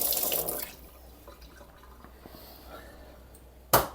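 Cold tap water splashes steadily over a resin-strapped watch, loud hiss at first, then a quieter running trickle, ending with a sudden sharp splash.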